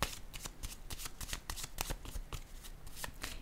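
Tarot cards being shuffled by hand, a rapid run of crisp riffling flutters and slaps repeating close up without pause, with no voice over it.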